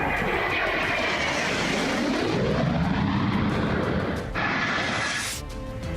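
Israeli fighter jets roaring low over Beirut, a loud continuous engine roar that swells and shifts in pitch as the aircraft pass overhead, with no voices.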